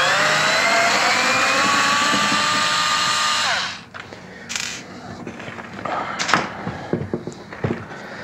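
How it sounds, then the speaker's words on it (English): An electric screwdriver whirs loudly for a few seconds while backing out a screw from a Porsche halogen/xenon projector headlight mechanism, then stops, followed by small clicks and handling noises. "First we have to remove the mechanism, so we start by removing this screw."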